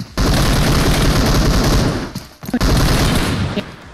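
Dense gunfire fills a multiplayer video game shooter, loud rapid bursts blending into a continuous roar, briefly broken by a short gap and a few separate shots before the firing resumes.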